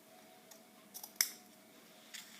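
Scissors snip through collar fabric up to the markings, giving one sharp close cut among a few fainter, softer snips in a quiet room.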